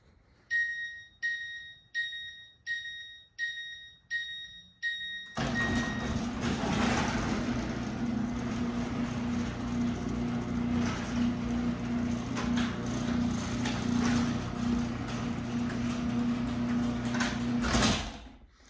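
A Wyze-controlled garage door sounds a run of warning beeps, then its motor drives the door down with a steady loud mechanical rumble and hum, ending in a clunk as it closes.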